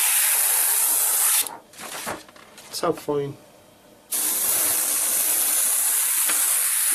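A steady, loud hiss of airbrush spraying that stops briefly while someone says a few words, then resumes continuously.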